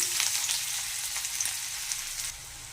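Chopped onion sizzles in hot oil with cumin in a wok, a close, bright crackle that eases slightly toward the end.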